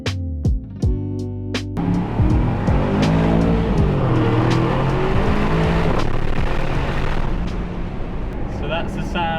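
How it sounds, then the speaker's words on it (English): Aston Martin DBX 707 SUV driven hard on Sardinian mountain roads, its engine roaring loud and close as revs rise and fall through gear changes, with a rumbling idle at the start. "That's the sound of the new Aston Martin DBX 707"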